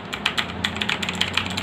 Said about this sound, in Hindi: तो ये देखिए अब ये कीबोर्ड कितना अच्छा इसका साउंड है।